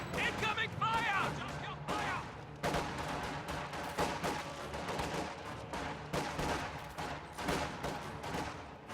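Repeated gunshots and bursts of machine-gun fire crackle through a WWII strategy game battle, sharp reports at irregular intervals over a steady din of combat, with a commentator talking over much of it.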